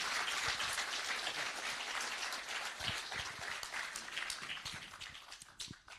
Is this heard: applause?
yes